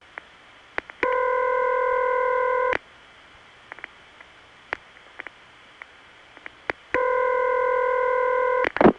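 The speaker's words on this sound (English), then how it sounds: "It's subtle, but there's something not quite right about that ringtone." Early-1980s crossbar exchange ringback with an odd tone, heard as two long steady multi-pitch ringing bursts of about two seconds each separated by a quiet gap with faint clicks, clear and alone.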